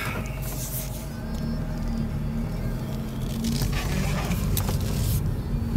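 A 2006 Hyundai Elantra drives down the street, heard from inside as a steady low engine and road rumble with faint rattles and interior noises, no clear talking.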